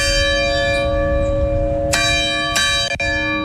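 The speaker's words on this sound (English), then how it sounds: "The bell rang 21 times for each of the victims of the Robb Elementary School shooting 2 years ago on Friday." A church bell tolls at a somber memorial in Uvalde, Texas, for the Robb Elementary School shooting victims. The deep strokes ring loud and close with long sustained resonance, and two fresh strikes land over the fading hum.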